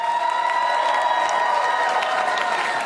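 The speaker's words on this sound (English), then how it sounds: "Give some round of applause" A comedy club audience at an Aries Spears show applauds and cheers as the evening's comics are brought up; a steady, dense wash of crowd noise with scattered whoops, fairly distant.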